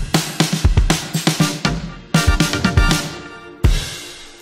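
Synth chords chopped into a tight rhythmic pulse by a noise gate keyed from a drum bus sidechain, fast stuttering bursts following a drum fill pattern with punchy low hits, loud and close, no talking.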